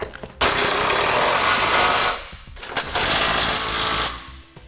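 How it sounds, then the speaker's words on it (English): A power tool, likely an impact wrench, runs in two long close bursts tightening bolts and flange nuts while a Curt trailer hitch receiver is fitted to a 2016 GMC Acadia. There is a brief pause between the bursts and no talk. "we've got all our hardware in place and we're ready to tighten it down."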